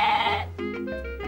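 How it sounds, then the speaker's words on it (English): A goat ridden into a hall gives a single loud, close, wavering bleat that tails off. "He rode his goat into the hall."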